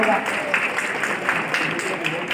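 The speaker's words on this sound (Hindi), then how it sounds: "ये तालियों की गड़गड़ाहट बनी रहनी चाहिए" Steady audience applause at an institute program event in India, a continuous wash of many hands clapping that fills the hall without pause.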